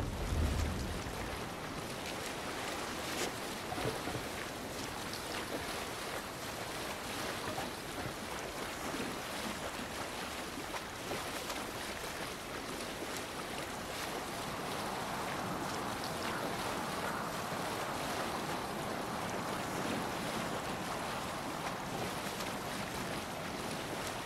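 Viking longship rowing across open sea in Assassin's Creed Valhalla, a continuous broad wash of water, waves and wind rushing past the hull, steady and moderately loud without speech.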